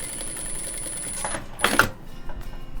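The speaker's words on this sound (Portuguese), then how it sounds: "E eu vou passar uma costura bem justo aqui na lateral interna do pezinho" A sewing machine runs a short burst of stitching close along the inner side of the presser foot, piecing a quilt block of triangles into a square, with a steady whine and a brief louder run midway.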